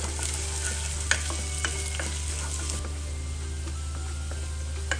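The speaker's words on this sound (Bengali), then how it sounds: "ভিউয়ার্স দেখতে পেলেন আমি পেঁয়াজটাকে নরম করে নিচ্ছি" Onions soften in a hot pan with a constant close sizzle, overlaid by scattered scraping stirs and light utensil taps. A low steady hum runs beneath.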